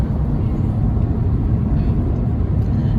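A car drives along a road on a long trip, giving a steady, continuous low rumble of engine and road noise, close and even throughout with no talk.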